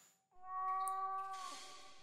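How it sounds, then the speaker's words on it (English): A cat meows in the video game The Last Door, one long drawn-out tonal meow with a rising then falling pitch, fairly clear and alone. "Just a cat meowing."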